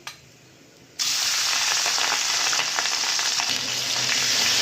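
Marinated shrimp rubbed with turmeric and salt go into hot oil in a pan for a stem-greens and shrimp curry. A sudden loud, steady sizzle bursts in after a moment of quiet and keeps hissing close up with no talking.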